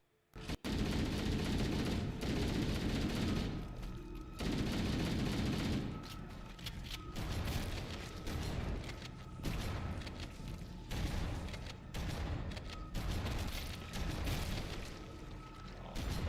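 Rapid video-game gunfire from an assault rifle and a shotgun, a dense run of shots and bursts that stays loud and continuous for the whole stretch, with short dips between volleys.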